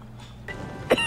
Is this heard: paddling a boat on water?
no